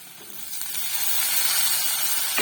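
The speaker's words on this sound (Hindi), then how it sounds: "अब हम इसमें डालेंगे टमाटर" Tomatoes go into a pan of fried onions and chillies, setting off a loud, steady sizzle and hiss that swells and holds throughout, with no talking.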